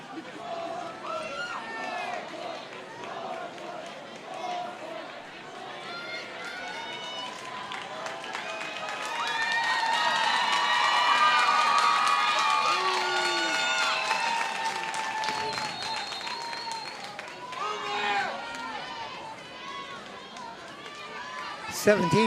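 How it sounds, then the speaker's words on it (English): Lakeridge fans cheer at a boys lacrosse final against Jesuit, a crowd roar swelling to a peak midway and fading again, heard under an announcer's commentary. "you can't do that cheer from the Lakeridge fans audible below"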